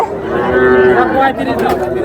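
A heifer moos loudly and close by at a crowded cattle market in Chandaikona, Sirajganj, giving one long low call over a steady background of market noise.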